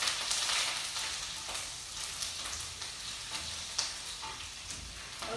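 Finely chopped garlic and ginger sizzle and fry in a pan while being stirred for saag, a steady crackling hiss with occasional scraping, moderately quiet and without talk.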